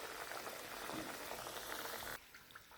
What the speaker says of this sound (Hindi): तो बस इन्हें हम तलने देते हैं।